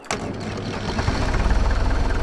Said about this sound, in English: So this is your stock run noise. Just an old tractor.